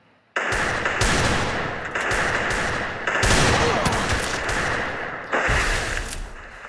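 Loud, sustained bursts of automatic gunfire in the Lone Wolf video game, rapid shots in several long strings separated by brief breaks, close and dominant.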